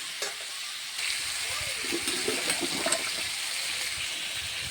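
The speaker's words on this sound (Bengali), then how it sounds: "হালকা তেলে রান্না হচ্ছে এটা" Food shallow-frying in a little oil for a Bengali home-cooked dish, a soft continuous sizzle and hiss with faint clinks and stirring, steady and close, without talk.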